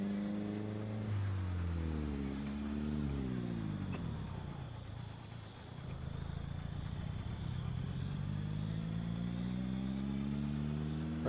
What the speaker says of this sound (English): Sounds like my engine's dying.